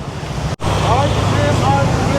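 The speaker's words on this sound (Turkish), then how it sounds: "Su çok güzel ama aşırı dalgalı." Rough surf breaking steadily at a tropical island beach, a broad continuous wash of waves with wind buffeting the microphone, briefly cut by a sharp dropout near the start.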